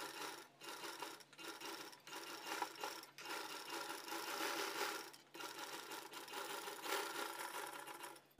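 Sewing machine stitching along the neckline of a maggam work blouse, a quiet, close rapid whirring that runs in several bursts separated by brief stops, with no talking.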